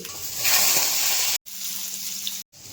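Fish frying in oil in a kadai, a steady broad hiss and sizzle close by, broken by two brief silent cuts.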